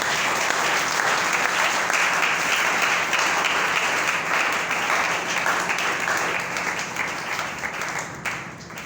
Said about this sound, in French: acclamez fort pour Jésus